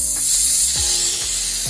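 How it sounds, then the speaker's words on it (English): Kiss Colors 10x Hold Bond adhesive spray hisses out of an aerosol can in a steady, close burst lasting under two seconds. "This is the 10 times Hold Bond Spray, and I am going to use that for the install today."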